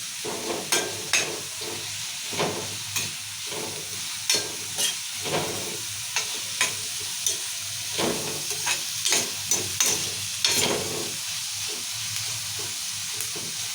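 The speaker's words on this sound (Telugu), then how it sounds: "ఉల్లిగడ్డలు కూడా ఇట్లా ఎర్ర కావాలి ఇట్లా ఎర్రగా వేయించుకోవాలి కలుపుకుంటూనే ఉండాలి" Onions fry in oil for an amaranth-leaf and tomato curry, hissing steadily as a spatula scrapes through them in a quick, regular rhythm, close and clear.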